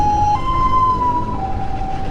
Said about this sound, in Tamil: ஆம்புலன்ஸ் வரப்பெல்லாம் வழி ஒன்றுங்க.